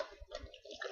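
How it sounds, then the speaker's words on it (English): Water is poured into a cup holding a drink powder, a brief splashing, gurgling trickle heard close up with no talking. "add some water"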